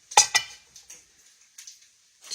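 Biscuit dough set down on a baking pan in a home kitchen, heard as a couple of sharp clinks of the pan followed by faint, scattered taps.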